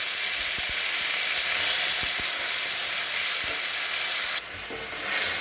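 Tomato and onion paste sizzles and fries steadily in a pan for fish curry, a loud continuous crackle broken by a few scraping stirs, with the hiss briefly dropping near the end.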